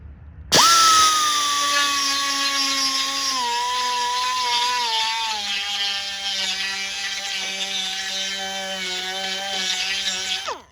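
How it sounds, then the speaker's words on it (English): A power grinder cuts a groove into a Chevy dually wheel flare, spinning up abruptly into a loud, sustained whining tone that slowly drops in pitch under load for about ten seconds before cutting off. "we are just going to grind a nice groove in here"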